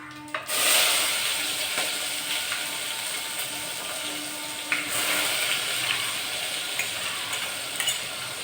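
Spiced paste for China fish curry hits hot oil in the pan, giving a steady close broadband sizzle with faint scraping and stirring clicks throughout, no talking.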